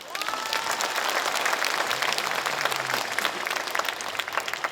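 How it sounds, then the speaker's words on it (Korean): Audience applause fills a hall at a unification ceremony after a speech by the provincial governor, steady dense clapping from many hands held for several seconds at an even level. "다시 한번 감사의 박수를 부탁드리도록 하겠습니다"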